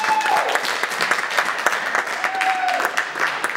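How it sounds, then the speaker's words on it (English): An audience at the Sandpoint Film Festival 2017 awards claps in a continuous, dense round of applause at moderate loudness, with a couple of faint whistle-like tones riding over it. "Please, big round of applause to all the people who made this happen."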